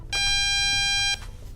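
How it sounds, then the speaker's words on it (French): A single long electronic beep from a Diagral wireless home alarm control panel, steady and clear, lasting about a second, with quiet room noise before and after. "La centrale confirme par un bip long."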